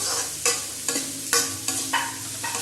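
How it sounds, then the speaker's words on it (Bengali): Carrots fry in a pan as a spatula scrapes through them in about five quick, regular strokes, each scrape rising over a soft, steady sizzle close to the microphone, with no talking. "এই যে গাজর ভাজা, গাজর ভাজা রোজই হয়।"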